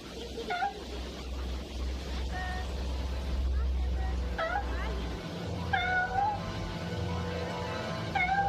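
A cat meows several times at a distance, short calls spaced through a low rumbling background, with voices talking at moments.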